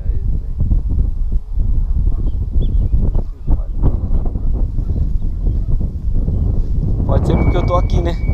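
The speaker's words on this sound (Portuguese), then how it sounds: "E pior que tá um vento aqui" Wind buffets a microphone outdoors on cattle pastureland, a steady low rumbling roar running throughout, with someone talking over it and a brief higher whistle-like tone near the end.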